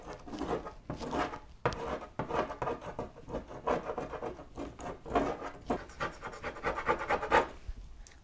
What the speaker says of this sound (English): I've used this plastic razor blade to take the aluminum foil off of the sticker and also come through and start working away on the packing tape